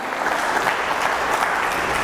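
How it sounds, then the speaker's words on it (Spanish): A church congregation at a Sunday service claps together for God, a short, steady burst of dense applause throughout. "Dale un aplauso a Papá Dios."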